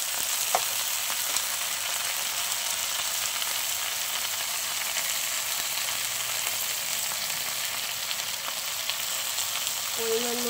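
Khārkun leaves frying in a pan, a steady dense sizzle lasting throughout with faint occasional stirring scrapes, close and even in level, no voices.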